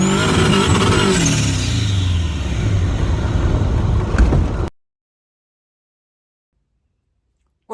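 A VW Ghia car spins its wheels with a loud, close engine roar and revving that holds steady for several seconds, then cuts off abruptly into silence.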